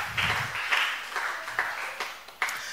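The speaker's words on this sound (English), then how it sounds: "Give a hand clap to Jesus." A church congregation claps hands in a few uneven bursts, moderately loud and slightly reverberant, fading between claps with no voices over it.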